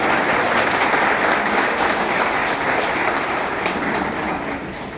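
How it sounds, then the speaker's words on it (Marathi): A crowd at a public function gives strong applause for Pawar saheb, continuous dense clapping at a steady level that fades slightly near the end. "पवार साहेबांसाठी सुद्धा जोरदार टाळ्यांचा गजर या ठिकाणी"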